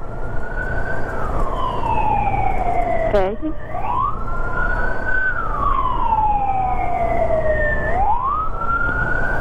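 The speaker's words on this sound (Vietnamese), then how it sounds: "Có xe cấp cứu rồi mấy má ơi." An ambulance siren wails on a Saigon street at night, a loud, close, rising and falling tone over constant traffic rumble, with people chatting nearby.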